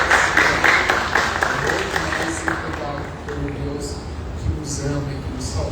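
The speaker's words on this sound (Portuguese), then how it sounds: "Então eu queria bater palmas para o nosso Deus." A church congregation at a celebration service claps together at moderate volume, fading gradually, with a voice and some music-like tones underneath.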